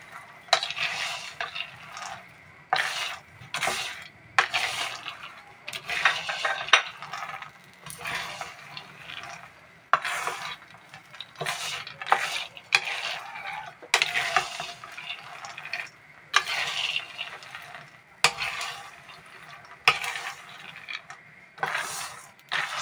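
Raw peanuts roast in salt in a dry pan without oil, stirred in repeated scraping bursts with a gritty, rattling rustle, close and fairly loud, with short pauses between strokes and no talking.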